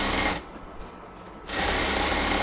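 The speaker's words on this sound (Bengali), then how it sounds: "এবার আমরা আরও একটা সেলাই দিয়ে দিব।" An electric sewing machine stitches along the waistband of a pair of ladies' pants, a close, steady whirring buzz that stops briefly for about a second and then runs on again.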